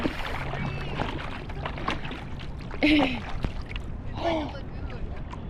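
A surfer paddles through shallow water over the reef at Ala Moana, with steady splashing and sloshing close by and two brief louder strokes, while a person's voice breaks in a few times.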